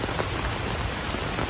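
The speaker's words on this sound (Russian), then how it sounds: "Настоящий тропический дождь." Heavy tropical rain falls steadily in Kuala Lumpur, a dense, continuous hiss of drops on surfaces with no voices, loud and unbroken throughout.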